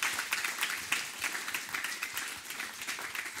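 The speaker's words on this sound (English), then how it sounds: "Can we please give Gordy and Di a huge round of applause to thank them so much for coming in today." A church audience applauds live, a steady patter of many hands clapping at moderate distance for a few seconds.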